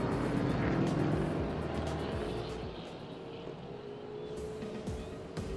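A TA2 race car on Sepang International Circuit during qualifying, its engine roaring close by and then fading as it goes past, with faint commentary underneath.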